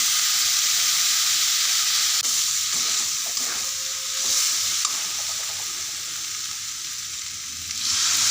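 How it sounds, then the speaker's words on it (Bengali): Sizzling ghugni in a pan as cold water is poured in: a loud, close frying hiss with stirring clatter that swells into a bubbling burst near the end, with no speech. "ঘুগনিগুলো কষাই নিয়ে এখন আমি জল দিয়ে দিব"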